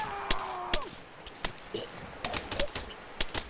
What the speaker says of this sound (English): Gunshots ringing out from every different area, every different location.